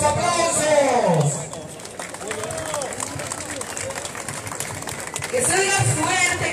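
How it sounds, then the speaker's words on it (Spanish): A crowd at the opening of the Trail de las Culturas 2019 race claps steadily in the background. An announcer keeps speaking loudly over a sound system, and the applause stays fairly even underneath the voice. "¡Los aplausos!"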